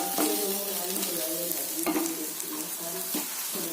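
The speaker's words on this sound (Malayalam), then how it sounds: "മല്ലിപ്പൊടി, മുളക് പൊടി, ഗരം മസാല ഇതൊക്കെ ചേർത്തിട്ട് വഴറ്റിയിട്ട് ചിക്കൻ കൂടി ഇട്ട് വഴറ്റാം" Close, continuous sizzling in a pan as coriander powder, chilli powder and garam masala are sautéed, with repeated scraping and stirring knocks from a spoon, no talking.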